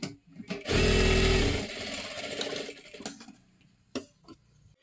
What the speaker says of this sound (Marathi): इथे आपल्याला दोन्ही बाजूने थोडीशी शिलाई मारून घ्यायची आहे, ह्या सुद्धा बाजूला त्याच पद्धतीने।